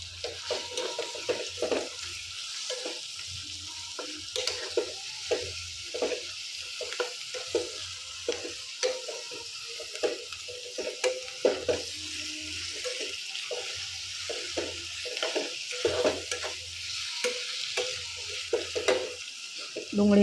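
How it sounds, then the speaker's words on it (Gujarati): Onions frying in a pan on a gas stove, a continuous hissing sizzle broken by repeated scraping of the spoon as they are stirred, close and steady with no talk. "જો આ રીતે ડુંગળી નાખી અને ડુંગળીને બી ફ્રાય થવા દઈશું."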